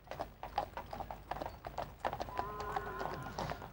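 Horses' hooves clip-clop steadily as they draw royal carriages in the Trooping the Colour parade of 2003, a brisk repeated clatter on the road, moderately distant, with a sustained tone joining near the end.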